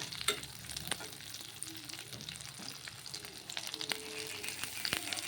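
A spoon stirs banana flower and boiled potato pieces in a pan, giving steady scraping and light sizzling with scattered clicks of utensil on metal, close and fairly quiet throughout.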